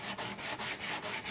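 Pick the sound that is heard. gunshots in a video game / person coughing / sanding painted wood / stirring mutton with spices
sanding painted wood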